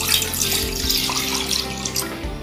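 Half a litre of milk pours into a cooking pan in a home kitchen, a steady liquid splash and trickle running continuously and close by, with no voices.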